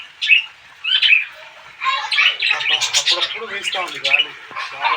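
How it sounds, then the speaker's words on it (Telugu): Lovebirds and small parrots at a farm house squawk and chirp loudly and close up, starting with a few sharp calls and then breaking into dense, continuous chattering. "ఈ లవ్ బర్డ్స్ కానీ లిటిల్ ప్యారెట్స్ కానీ చాలా సరదాగా, సంతోషంగా, ఆహ్లాదంగా ఉంటాయండి."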